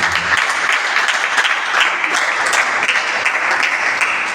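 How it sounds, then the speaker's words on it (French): A conference audience gives continuous, full applause for a speaker, with the clapping steady and loud throughout and no break. "Encore une fois, veillez, l'ovationner avec des acclamations."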